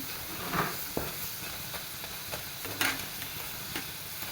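Potato crisp snacks fry in hot oil, a close bubbling sizzle broken by a few louder stirring scrapes and clinks, no talking.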